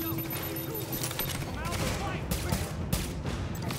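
A slow-firing gun in The Division shooter game lets off a few spaced shots over busy combat ambience, with muffled voices faintly underneath.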